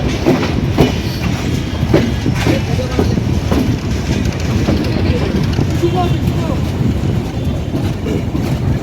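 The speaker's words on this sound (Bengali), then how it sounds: "ট্রেনটি মাত্র পঁচিশ মিনিট বিলম্বে জয়দেবপুর জংশনে প্রবেশ করলো" Padma Express intercity train running into Joydebpur Junction, heard from on board as a loud, steady rumble with rhythmic clickety-clack of wheels over rail joints and a faint squeal, with a voice talking over it.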